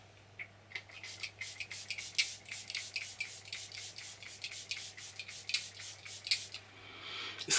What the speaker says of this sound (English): And let's spray.